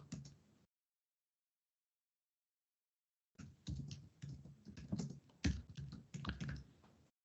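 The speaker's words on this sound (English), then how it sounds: "I really should get some lounge music for when I'm typing" Rapid keyboard typing clicks in uneven bursts, close and clear, after a brief pause of silence.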